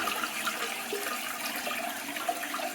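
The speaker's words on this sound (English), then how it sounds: "Okay, let's flush it and see what happens." A toilet flushes right after its Fluidmaster universal fill valve was adjusted, giving a steady, close rush of water that runs on unbroken with no voices.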